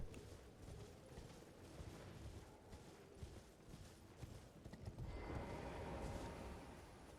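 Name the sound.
horse galloping in a video game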